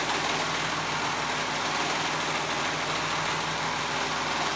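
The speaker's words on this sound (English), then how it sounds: "I'm just sewing those together." A sewing machine stitches fabric pieces of a wrap top together along a raw edge, giving a steady close motor hum with a fast, even mechanical rhythm throughout and no talking.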